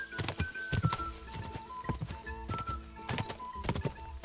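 Horse galloping in the video game Kingdom Come Deliverance 2, a fast, steady rhythm of heavy hoofbeats with a tonal game music line running underneath, close and moderately loud.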